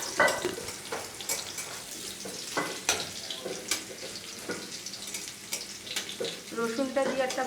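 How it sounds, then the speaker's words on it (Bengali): Garlic tossed into hot tempered oil spits and crackles in a pan, with scattered sharp pops and stirring clatter over a steady sizzle, fairly close. "এবার আমি এর মধ্যে রসুন ফোড়ন দিয়ে দিলাম।"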